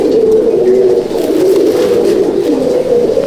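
Andhra and Madrasi pigeons in a loft coo in continuous low, throaty rolls, close and loud, with brief dips between phrases.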